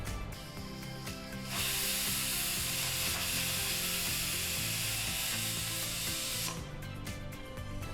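Tempering for taro leaf chutney sizzles in hot oil, a soft crackle that swells into a continuous bright hiss for several seconds and then falls away, fairly quiet and without talk.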